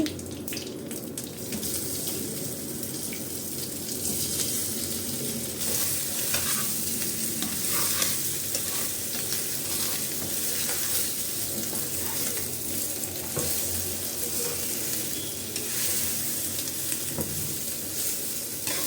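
Steamed dudhi muthiya pieces tossed with curry leaves in a hot pan, giving a continuous loud close sizzle and crackle with frequent scraping stirs throughout, no voices.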